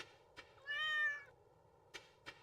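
A cartoonish game cat meows once in Stardew Valley, a short rising and falling cry that is clear and close. Faint game music runs underneath, and a couple of soft clicks come before and after.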